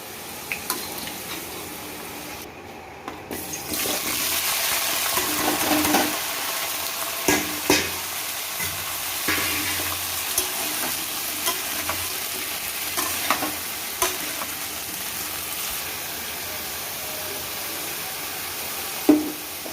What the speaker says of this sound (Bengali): এঁচোড়টাও একটু ভালো করে ভেজে নেব